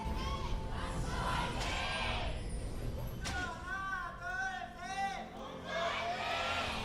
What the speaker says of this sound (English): Oh, pretty divided crowd here.